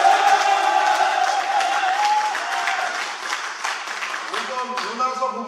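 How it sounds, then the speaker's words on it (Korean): Supporters applaud for candidate Lee Min-geun at an Ansan mayoral debate, a loud crowd clapping with some cheering and a sustained tone running through the first few seconds, continuing throughout. "2번 우리 이민근 후보님 응원팀 박수 한번 쳐주세요."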